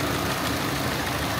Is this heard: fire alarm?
no